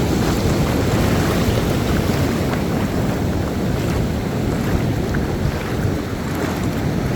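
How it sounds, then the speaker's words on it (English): Strong beach wind buffets the microphone in a steady, loud roar, with surf rumbling underneath and no voices throughout. "Oh, it's real windy down there."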